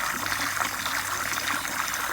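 Irrigation water runs into a planter box basin in a backyard aviary, a steady close trickling and splashing flow that holds at the same level throughout, with no talk over it.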